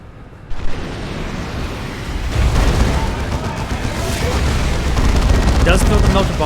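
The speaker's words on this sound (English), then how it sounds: "Does throw the Melter Bomb there." A melta bomb blast in the video game Dawn of War 2 hits Imperial Guardsmen: a sharp boom opens, and a loud, rumbling battle roar of explosions and gunfire builds and sustains, with a voice talking over it.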